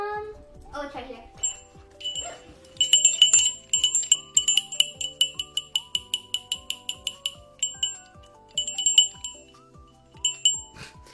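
A small handheld bell rings in quick bright strikes, clustered into bursts with short pauses across several seconds, close and fairly loud, with some speech around it.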